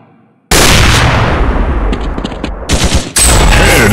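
Sustained automatic gunfire in a mobile zombie shooting game, loud and close, starting abruptly after a quiet moment and rattling on continuously with a brief dip before resuming at full volume.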